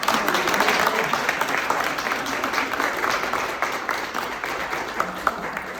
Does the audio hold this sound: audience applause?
yes